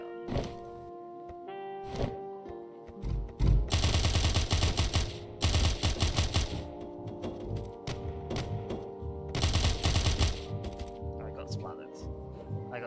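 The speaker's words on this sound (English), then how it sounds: "This one looks like it should be an obvious one for the Tommy gun" Tommy gun bursts in the game Of Murder and Moonshine, loud rattling volleys of a few seconds each with pauses between, over background game music and a voice talking.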